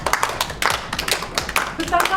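Children clap along in a contest program, bursts of quick hand claps in several clusters mixed with lively voices talking and cheering close by.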